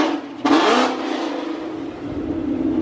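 A Ford Mustang engine revs loudly close by, a sharp rising burst of engine roar that settles into a steady loud idle rumble with no talk over it.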